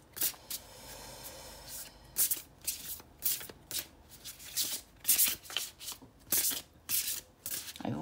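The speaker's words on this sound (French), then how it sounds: "je ne bats pas les cartes jusqu'à ce que toutes les cartes sautent" A deck of oracle cards is shuffled by hand in repeated bursts of soft riffling and rubbing, close and fairly quiet, with short pauses between each pass and no talk.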